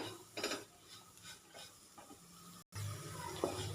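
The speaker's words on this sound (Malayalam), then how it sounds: "ഇത്രയും മതി നന്നായിട്ട് വഴറ്റി കൊടുക്കാം" Chicken roast masala with garam masala powder being sautéed in a pan, with a few scraping stirs of a spoon against the metal over a faint low sizzle, close and fairly quiet, with a short cut partway through.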